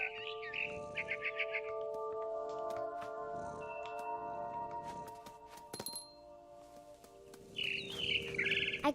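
Small birds chirp and tweet in the video game What Remains of Edith Finch, with quick trilling bursts at the start and end over a steady musical drone and scattered soft clinks.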